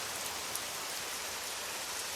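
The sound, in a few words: rain falling in forest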